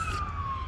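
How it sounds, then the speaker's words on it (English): An ambulance siren sounds at a distance, a single sustained wailing tone that drifts slowly downward in pitch, fairly faint against low background noise. "That's just the ambulance."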